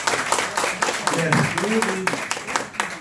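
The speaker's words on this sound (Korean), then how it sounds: "다시 한번 박수 부탁을 좀 뜨거운 박수 좀" Scattered audience clapping at a talk where a retired general gives testimony. Loose, uneven claps continue throughout while a voice speaks over them.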